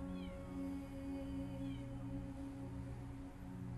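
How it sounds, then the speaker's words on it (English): A cat meows in the video game Copycat, giving two short rising mews over a constant droning tonal hum. It sounds clear and fairly close, with no speech. "this one will meow at absolutely anything that moves"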